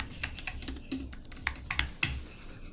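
Fingers type a short search phrase on a computer keyboard, with a quick, irregular run of crisp key clicks heard close up and alone.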